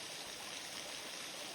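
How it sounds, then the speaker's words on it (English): Mountaineer Falls on the Appalachian Trail pours in a steady, broad rush of falling water, close and continuous with a bright hiss and no voices. "Got another waterfall."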